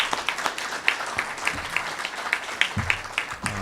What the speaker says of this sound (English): Give him another round of applause, won't you?